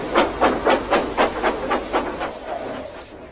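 A steam engine puffs out a regular series of about a dozen short hissing chuffs that slowly fade, close and clear with nothing else over them.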